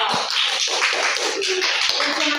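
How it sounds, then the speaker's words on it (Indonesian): Classroom of students applauding a group, a brisk mixed clatter of many hands clapping with a few sharper individual claps standing out, steady for a couple of seconds. "Kita beri tepuk tangan dulu"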